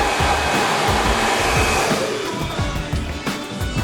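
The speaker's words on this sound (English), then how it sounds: "We've also got these really cool pull down dryers. So you can just pull it down." A salon pull-down hood hair dryer blows with a loud, steady rushing whoosh of air close by, holding constant for several seconds and easing slightly toward the end, with no speech.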